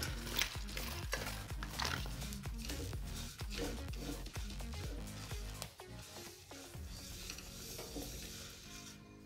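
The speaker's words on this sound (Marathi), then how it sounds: "यामध्ये आपण मुगाची डाळ टाकून त्याला चांगलं परतून घेऊया, छान भाजून घेऊया" Moong dal dry-roasting in a hot pan, with repeated scraping stirs and a faint dry sizzle in an uneven rhythm, close and fairly quiet throughout, no talking.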